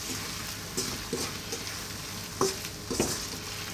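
Vegetable black bean burrito filling stirred in a pan with the heat off, a handful of soft scraping and clinking strokes over a faint lingering sizzle, close and quiet.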